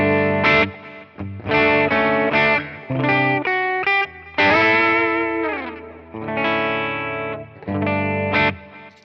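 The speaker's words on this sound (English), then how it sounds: "now let's switch to the bridge pickup, and I'm in humbucking mode, and it sounds like this." A PRS SE electric guitar played through the bridge pickup in humbucking mode, with distortion and chorus effects, strums loud sustained chords in short bursts with pauses between them and no talking.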